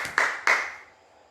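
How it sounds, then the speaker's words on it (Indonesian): A church congregation claps, with a few sharp, close hand claps in quick succession that ring briefly and die away. "Kasih tepuk tangan dulu buat Tuhan kita."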